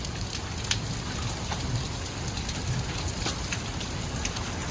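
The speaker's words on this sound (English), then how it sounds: "there's still big chunks falling" Hail from a severe thunderstorm in Edwardsville, Illinois keeps falling in a dense, steady patter, with scattered sharper clicks of larger stones hitting nearby.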